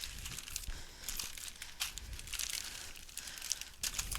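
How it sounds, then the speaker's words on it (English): Plastic bag rustling and crinkling close to a microphone while board game tiles for Imperial Assault are sorted, a busy run of crackles and sharp crunches with brief pauses, no talking. "I apologize for the bag rustling sounds if that's really loud on my mic"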